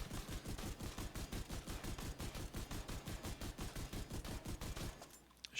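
Ouroboros Striker gun fires in a video game at 1875 RPM, sounding as a loud, very rapid, evenly spaced stream of shots that stops abruptly near the end.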